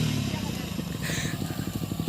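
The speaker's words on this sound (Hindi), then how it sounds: "अभी आदि बाइक करने के लिए जा चुके हैं चाबी लेकर" A motorcycle engine runs during bike stunt attempts, a close, steady, throbbing idle with slight revving pulses throughout.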